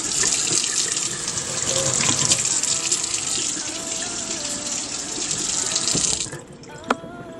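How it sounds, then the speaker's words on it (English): Tap water pours steadily into a kitchen sink while food is rinsed during holiday meal prep, a loud continuous gush for about six seconds before the flow cuts off, followed by a brief clunk. "So I'm gonna rinse this off really quickly because that's just how I am."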